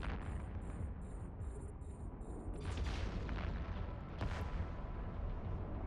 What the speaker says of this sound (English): We're going to go all 4 launchers on each of the battleships just to take them down.